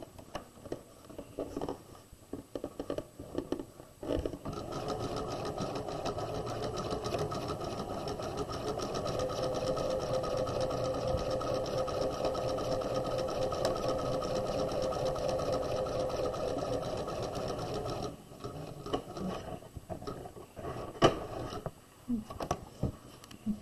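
Sewing machine stitches up the side of a tote bag lining in one long steady run lasting most of the stretch, close by, with brief stops and handling noises before and after.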